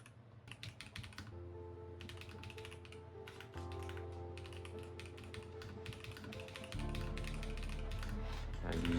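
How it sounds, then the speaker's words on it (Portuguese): Fast, steady typing on an AKKO 5075S Clear mechanical keyboard with a 75% ABNT2 layout, a close run of soft, muted key clicks over a low background hum, no talking. "A digitação dele é muito macia mesmo."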